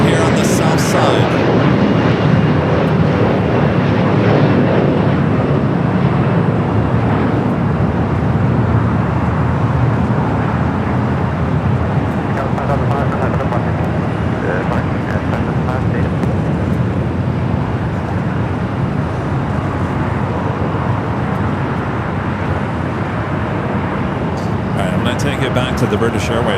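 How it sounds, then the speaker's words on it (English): A Boeing 777 jet taxis at Los Angeles airport. Its engines make a loud, steady roar and whine that runs for the whole stretch, with a voice speaking over it. "There's the first 777 now starting to move into the alleyway."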